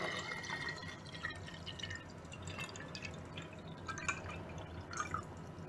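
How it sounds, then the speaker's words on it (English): Mineral water is poured into a jar, giving a faint, quiet trickle with small irregular drips and splashes, steady for several seconds with no talking. "we're gonna be just pouring water. I'm using mineral water, but into this jar"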